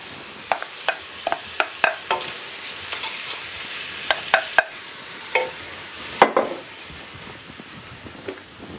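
Chicken pieces and onions fry in a hot pan, a steady sizzle broken by sharp, irregular clacks of a utensil stirring against the pan, close and loud.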